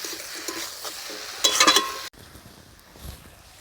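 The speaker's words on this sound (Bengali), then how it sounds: "এইভাবে আমি কিছুক্ষণ কষতে থাকবো।" Mrigal fish curry with lotus leaf stalks being sautéed in a pan: a soft, steady sizzle with scraping stirs, a brief louder burst of frying, then a quieter simmering hiss.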